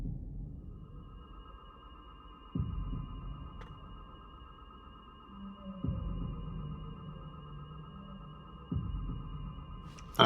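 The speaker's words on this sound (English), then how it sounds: "The heartbeat sound effect." A heartbeat sound effect from the Zelda: Echoes of Wisdom video game, slow, deep throbbing thumps spaced a few seconds apart over a steady sustained electronic drone, with no talking.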